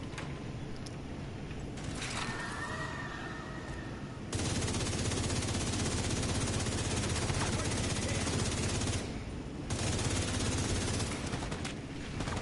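Sustained bursts of gunfire from shooting rats while farming in the video game Proto, loud and dense through long stretches with brief gaps, mixed with mechanical clicks and game sounds.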